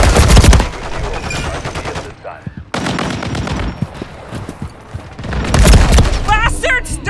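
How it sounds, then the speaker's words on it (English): Gunfire in the Modern Warfare 3 video game: loud, dense bursts of automatic fire and booming shots, with short quieter gaps and a voice heard in the lulls. "They're shooting at me!"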